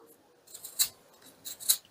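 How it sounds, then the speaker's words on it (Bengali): A peeler scrapes the skin off a raw mango in a few short, crisp strokes, quiet and close, two pairs of rasping swipes in under two seconds. "এবার একটা পিলারের সাহায্যে আমি খোসাগুলো কেটে নিচ্ছি"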